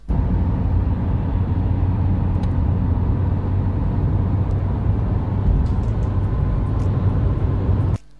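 Steady low engine and road rumble from inside a moving car, continuous and even for about eight seconds with no talking, cutting off abruptly at the end.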